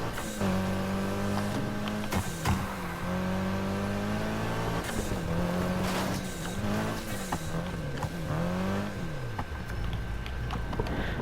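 A green Mitsubishi Lancer's engine in the Need for Speed Heat racing game revs and climbs through gears, pitch rising and dropping with shifts, loud and steady with no talk over it.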